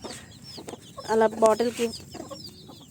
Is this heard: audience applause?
no